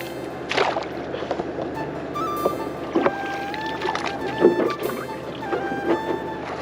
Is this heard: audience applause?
no